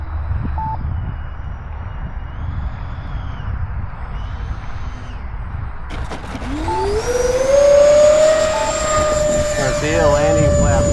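A model F-4 Phantom II jet comes in to land with its flaps down, a hissing engine whine rising sharply in pitch halfway through and holding loud and steady to the end.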